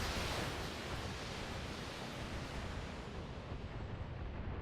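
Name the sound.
two LRM-15 missile launchers firing in BattleTech video game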